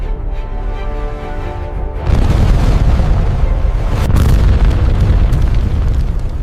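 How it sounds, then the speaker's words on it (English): Bombs dropped by a jet on a government district burst in powerful explosions, a quieter rumble giving way to a sudden heavy blast and a second crack, followed by sustained roaring debris and rumble. "Moments later, powerful explosions shook the center of the government district."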